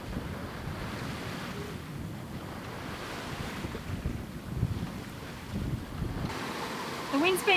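Strong wind of about 15 knots and ocean waves roar around a sailboat close-hauled at sea on a Pacific crossing, a loud continuous rush with surging swells and buffeting microphone wind.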